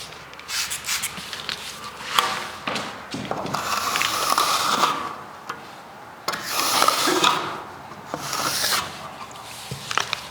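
A trowel smooths wet plaster on a Victorian house wall in repeated sweeping strokes, each a close rasping scrape separated by short pauses, with no talking.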